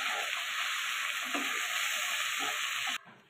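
Chopped tomatoes hit hot oil with browned onions in a pan for a Bengali boal fish curry, giving a loud steady sizzle with faint stirring scrapes, close up, until it suddenly drops away near the end.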